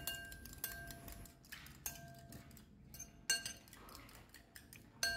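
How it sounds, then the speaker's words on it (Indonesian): A fork rapidly clinks against a bowl while whisking eggs, in repeated light taps and scrapes, faint and close, with irregular bursts of metallic ticking. "Mengocok telurnya tidak perlu mixer, cukup menggunakan sendok garpu saja."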